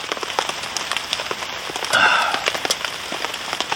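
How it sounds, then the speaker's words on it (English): Steady rain patters on a tarp at a wet, windy wild campsite in the UK, a dense close hiss of drops with scattered louder taps and a brief swell of heavier rainfall partway through. "if this rain keeps up"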